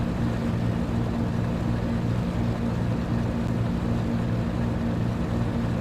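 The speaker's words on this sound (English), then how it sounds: "Driving around in a boat." Boat engine in Grand Theft Auto 3, a loud, continuous low droning motor with a steady pitch and splashing water noise throughout, no voices.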